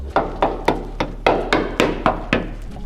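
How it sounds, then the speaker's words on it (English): A hammer taps a car's metal body about ten times at an even pace, checking for rust, each strike sharp and close with a short ringing decay. "I did go with a trusty hammer around the car to see if there's any rusty bits"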